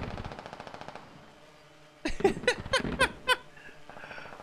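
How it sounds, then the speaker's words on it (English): Video game gunfire: a steady run of distant rapid shots gives way to a loud, close burst of about half a dozen heavy cracks, then a short fading tail. "a couple of shots now going off"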